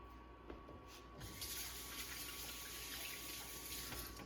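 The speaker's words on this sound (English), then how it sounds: "let me rinse my hands off." Tap water runs in a faint, continuous stream into a kitchen sink while hands are rinsed under it. The splashing stays steady and quiet throughout, with no voices.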